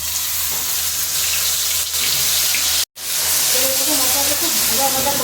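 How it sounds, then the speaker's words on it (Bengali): Spice paste of pepper, chilli, tomato, ginger, garlic and onion sizzling in hot oil, a steady close frying hiss with a brief dropout midway and bubbling crackle afterward. "মশলাটা খুব ভাজা ভাজা করে নেবো।"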